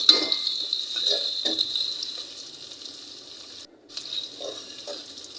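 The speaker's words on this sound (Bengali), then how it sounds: "পেঁয়াজটা আমি ভালো করে নেড়ে চেড়ে ভেজে নেব।" Chopped onions fry in hot oil while being stirred, giving a faint, hissing sizzle with occasional soft scrapes, briefly dropping out partway through.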